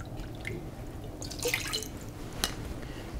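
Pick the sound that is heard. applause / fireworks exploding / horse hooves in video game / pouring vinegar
pouring vinegar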